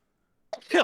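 A single person sneezes: a short, soft intake followed by a sharp, loud burst that ends quickly, close by after a moment of silence.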